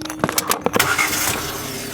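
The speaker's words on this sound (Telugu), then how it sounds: "మళ్ళీ ఇప్పుడు ఇంజన్ ఆన్ చేద్దాం." A van's engine cranks with a few quick stuttering bursts and then catches into a steady running idle, heard close up from inside the vehicle.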